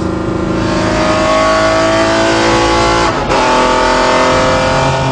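A BMW X5 fitted with a 700 hp V12 Le Mans engine and all-wheel drive sweeps through long curves, its engine roaring loud and steady throughout with no talking.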